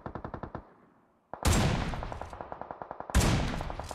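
Rapid automatic gunfire in PUBG Mobile, probably an MG3, comes as bursts of evenly spaced loud shots, a short lull, then two heavier sustained volleys with booming reports that ring out and decay.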